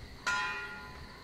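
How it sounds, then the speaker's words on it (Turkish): A single bright wind-rung bell strike in the video game Metro Exodus rings out and slowly fades, its tone lingering over a soft windy background. "Bu böyle çanlar öttüren rüzgarlı sistem."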